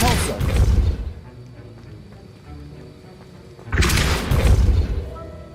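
Depulso spell blasts in Hogwarts Legacy, two heavy booming bursts a few seconds apart, each loud and rumbling before decaying, with quieter game sounds in between and a voice present.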